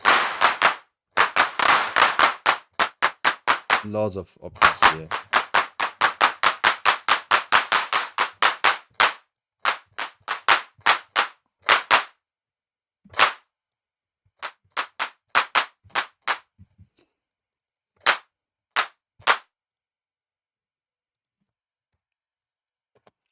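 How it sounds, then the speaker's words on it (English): Synthesized clap hits from a techno track in progress, a rapid run of sharp, bright claps that thins into sparse isolated hits with gaps between them, then silence; a voice speaks briefly early on. "It's not just one like simple clap sound."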